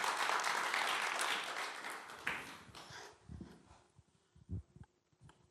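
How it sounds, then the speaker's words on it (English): An audience at an ecommerce conference applauds as guests come on stage, with dense clapping for about two seconds that then thins to scattered claps and fades, leaving a few low thumps near the end. "So if you can please give them a huge round of applause"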